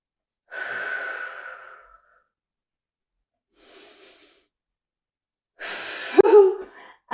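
Heavy, effortful breathing during a circuit workout in a glute-focused hold. Three separate breaths are heard close to the microphone with silence between them, and the last one is loud, with a strained, voiced edge as it is pushed out.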